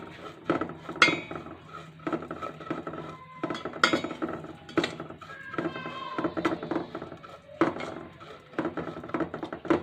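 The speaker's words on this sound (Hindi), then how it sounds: "चम्मच हिलाते रहना है ताकि हमारी चीनी जले नहीं" A metal spoon stirs sugar and tea leaves in a pot over a low stove flame, making repeated uneven scraping clinks against the pot, fairly close and quiet, with no voices.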